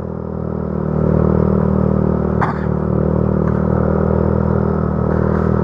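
A motorcycle engine runs steadily and loudly close by while riding a winding mountain track, with a constant droning hum and a brief clatter partway through.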